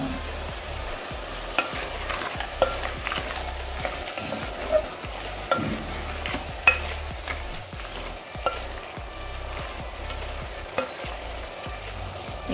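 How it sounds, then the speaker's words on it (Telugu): Red chillies and a handful of cashews fry in a pan with onions for a restaurant-style paneer butter masala, a steady close sizzle broken by frequent scrapes and knocks of a stirring spoon, with no one talking. "ఇవి అంతా బాగా ఫ్రై కావాలి."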